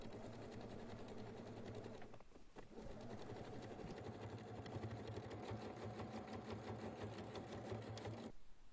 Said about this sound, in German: Dann wird dort knappkantig abgesteppt.